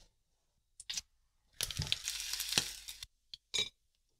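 Vegan bacon rashers going into a hot pan, with short crinkly bursts of sizzle and crackle, then a sustained spitting fry lasting over a second, followed by a couple more brief sizzles amid near silence.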